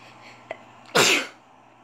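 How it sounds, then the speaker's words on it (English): A single sharp human sneeze bursts out once, close and loud, inside a fast car, with a faint sniff just before it and quiet cabin hum around it. "Excuse me, sorry if I'm sneezing a lot."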